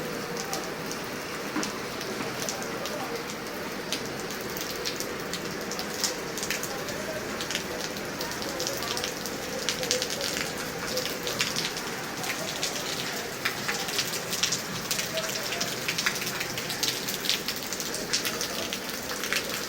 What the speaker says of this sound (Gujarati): આજે વરસાદ આવ્યો છે